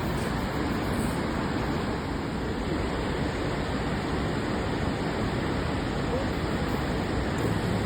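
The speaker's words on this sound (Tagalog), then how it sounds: "pagkagaslas ng tubig maganda rin pakinggan nakakalibang" Continuous rushing water at the Lower Falls, a dense broadband roar like a waterfall, steady and loud from start to finish with no breaks.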